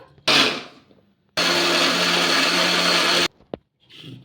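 A mixer grinder whirs loudly blending vermicelli batter for ponganalu in two bursts, a short one followed by a longer steady run, then stops.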